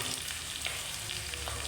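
Ivy gourd pieces added to a sizzling pan of vegetables for sambar, giving a low, steady frying hiss with faint crackles, heard close but quiet and without voices.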